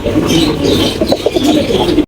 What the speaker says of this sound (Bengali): এক্সিবিশন কবুতর দেখতে পাচ্ছি